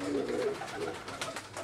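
Pigeons coo softly in a breeding cage at a pigeon farm in Faisalabad, their low, murmuring calls close by and continuous across the short moment.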